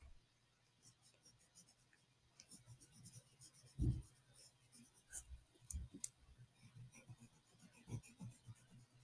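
A gray colored pencil moves across paper while shading the eye of a portrait, giving soft, quiet scratchy strokes with a few light taps throughout, close and faint, with no talking.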